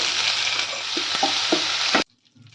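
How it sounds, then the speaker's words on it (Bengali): Whole spices with ginger and green chili paste fry in oil in a pan for an ash gourd curry, a loud steady sizzle with a few stirring scrapes, cutting off abruptly near the end. "ফোড়নটা দিয়ে দিচ্ছি আদা আর কাঁচা লঙ্কার পেস্ট এক চামচ দিলাম দিয়ে দিচ্ছি এক চামচ হলুদ গুঁড়ো"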